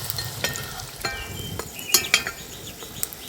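A paratha stuffed with egg fries slowly over low heat in a pan, giving a soft, steady sizzle broken by occasional sharp scrapes and clinks of a spatula. No one speaks.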